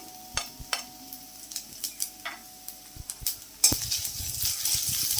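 Chopped ginger stirred into frying mustard seeds and onion, scattered clicks and light scrapes of a spoon in the pan, then a sudden surge of loud steady sizzling for the last couple of seconds.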